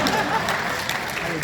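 An audience claps at a Hindi comic poetry gathering in a Bhilai hall, a short burst of dense applause from a crowd, with a voice talking over it.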